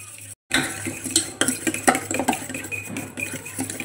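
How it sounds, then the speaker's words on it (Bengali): Sweet and sour curd being whisked in a bowl before water goes in, with a run of close, irregular clinks and scrapes of utensil against the bowl, moderately loud and steady throughout after a brief silent gap near the start. "তো এই যে দই নেওয়া হয়ে গেছে, মিষ্টি দই, টক দই, এবার এটাকে একটুখানি জল দেওয়ার আগেই এটাকে একটুখানি ফেটিয়ে নেব ভালো করে"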